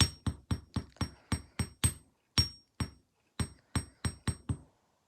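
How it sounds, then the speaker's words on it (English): A hammer strikes small metal earring pieces in quick, crisp taps, a run of about ten blows, a short pause, then a few more and a final burst of five, close and clean with no talk. "We are done hammering."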